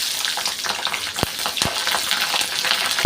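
Peeled garlic cloves fry in hot oil for a Tamil kuzhambu with a steady crackling sizzle, broken by a few sharp clicks and taps from stirring.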